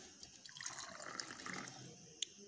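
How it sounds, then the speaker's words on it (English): Water poured into a calorimeter during a specific heat experiment, a faint close trickle and splash of liquid filling a container, soft and brief with a small drip at the end. "I will add water to it and then take the mass again."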